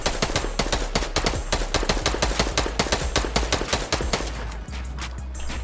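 Rapid bursts of automatic gunfire in a Fortnite Battle Royale match, loud and close, sharp repeated shots in quick rhythm that thin out near the end.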